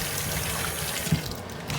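Tap water running into a kitchen sink while peeled raw meat is rinsed, a steady close splashing stream with a few louder splatters and no talk.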